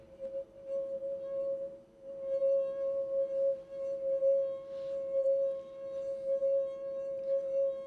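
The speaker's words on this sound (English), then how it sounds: "My fingers grabbing the glass, pulling it, and then letting it slip away." A wet fingertip circles the rim of a drinking glass, drawing out a steady, pure ringing tone that holds for several seconds with slight wavering, fairly quiet and with no talking.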